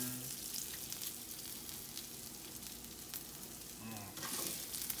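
Rice frying in a hot pan while enchiladas are being made, a quiet, steady sizzle and crackle with faint stirring scrapes near the end, fairly soft and with no talk over it.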